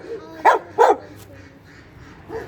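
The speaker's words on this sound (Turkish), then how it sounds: "Bak burada da köpek var." A dog gives two quick barks close by in a park, then a softer third bark follows after a short pause.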